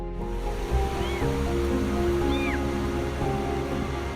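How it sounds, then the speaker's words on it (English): Two thin, high kitten meows, a second apart, faint over a loud rush of flowing river water. "Hearing a cat crying for help"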